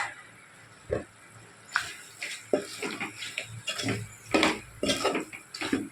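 Mutton keema being stirred in a pot with a spoon, then a lid set on: a series of close metallic scrapes and clanks of varying loudness, with no talking.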